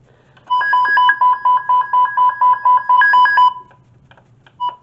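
A weather radio sounds its alert tone: a loud, steady run of about ten evenly spaced beeps with short gaps, followed by a pause and a final short beep.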